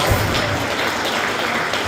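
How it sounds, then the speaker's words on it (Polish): Dense, loud applause from a gala audience at a business awards ceremony, a continuous wash of clapping filling the hall. "No to jeszcze brawa, prosimy"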